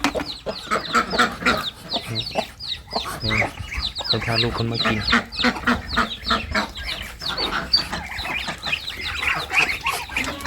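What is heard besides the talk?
chickens clucking while being fed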